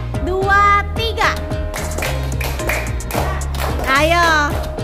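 Children play an Indonesian ice-breaker clap-pattern game, clapping counted rhythmic bursts up close. Young voices and a tuneful backing run beneath the claps throughout.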